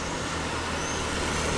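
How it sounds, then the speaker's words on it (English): Traffic at a busy intersection in Rome rumbles as a steady, dense wash of engine and road noise, vehicles blending into one continuous roar without distinct passes or voices. "There is a busy intersection here"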